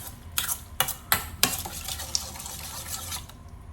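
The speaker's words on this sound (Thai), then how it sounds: "คนผสมพวกเขาให้เข้ากันนะฮะ" A spoon stirs a Thai pork belly salad dressing with dried chili, working to dissolve the sugar: a few quick, sharp clinks against the bowl, then softer swirling scrapes, close up and with no talking.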